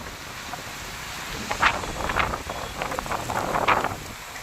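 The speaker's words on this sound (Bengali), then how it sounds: "হাওয়া বইছে।" Strong storm wind gusts through a town street in Raghunathpur, a steady roaring rush that swells into louder buffeting gusts midway and stays up to the end, with no voices.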